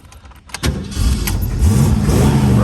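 A 1967 Ford Mustang engine cranks briefly and then catches, rising into a loud, steady idle rumble that runs to the end, close by and alone.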